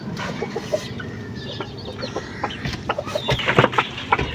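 A mother hen that has laid thirteen eggs but is not yet brooding clucks close by in a farmyard, with repeated soft clucks and other chicken calls over a busy background of birds.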